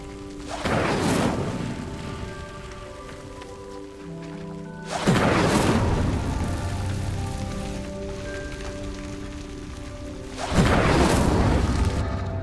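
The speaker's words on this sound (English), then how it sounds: "The flames make the pyre sink." Lit pyres sinking in the video game Hogwarts Legacy, a rumbling, rushing swell that hits three times at even intervals, each surge loud at first then settling into a sustained low grinding wash with no voices.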